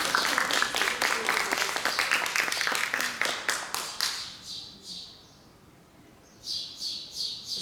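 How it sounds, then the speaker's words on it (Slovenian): Audience clapping in sharp, rhythmic bursts at a literary and spiritual gathering, fading out midway, followed after a pause by a few scattered high-pitched chirps. "En velik aplavz, da si znova z nami."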